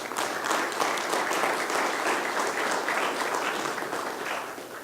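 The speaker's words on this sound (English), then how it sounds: "You guys owe yourself a round of applause." A roomful of people at a soccer club press conference in Oklahoma City gives a steady round of applause, dense clapping that holds at an even level for about five seconds and tapers slightly at the end, with no talking.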